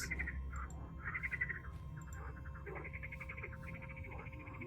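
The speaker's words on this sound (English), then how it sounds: "Oh, and there's frogs!" Frogs croaking beside water in a spooky video game, a chorus of rhythmic repeated croaks over a low ambient rumble, with no talk.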